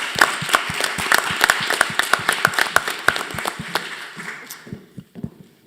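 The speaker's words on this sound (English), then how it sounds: "Let's give them a round of applause." Applause at a school district board meeting honoring employee service anniversaries: a room of people clapping in a dense, steady patter that thins into a few scattered claps and fades toward the end.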